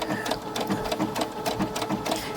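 A sewing machine runs steadily, its needle pounding in a quick, even rhythm as it stitches a reinforcement stitch back and forth over fabric, close and continuous with no talk.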